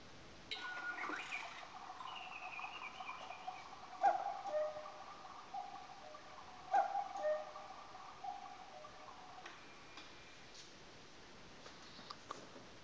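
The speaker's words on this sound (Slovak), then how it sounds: "ako kuká kukučka" A Trenkle 355 Q quartz cuckoo clock with a wooden hunting-style case calls at medium volume, giving two separate two-note cuckoo calls over a faint steady background.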